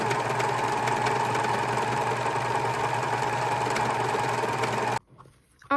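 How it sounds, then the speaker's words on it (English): A serger overlock machine runs steadily, stitching and trimming a fabric edge to finish the back of a cross stitch project, with a continuous loud mechanical whir for about five seconds before it stops abruptly. "since I have a serger, I am going to go ahead and serge this"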